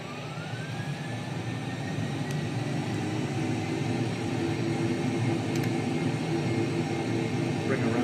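Virgin Atlantic Boeing 747-400 jet engines roaring at full takeoff throttle, a loud steady broadband rumble and whine that holds constant throughout, with a faint rising tone early on.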